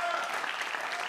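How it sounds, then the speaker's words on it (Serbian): Studio audience applause on a Serbian late-night talk show, dense steady clapping filling the whole moment at close, even loudness with no talk over it. "Dajte veliki aplauz"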